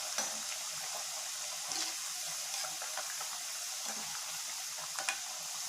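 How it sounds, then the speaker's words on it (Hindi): Bread samosas deep frying in hot oil over high heat, a steady, even sizzle with a fine crackle, close and continuous, with a few faint clinks of utensils and no voices. "इसको हमने तेज़ आंच के ऊपर फ्राई करना है, आंच लो नहीं रखनी"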